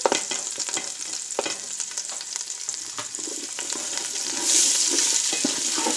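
Garlic and onion sizzle in a hot pan as the base for a seafood boil, a steady crackling fry with occasional stirring scrapes, growing slightly louder and brighter toward the end.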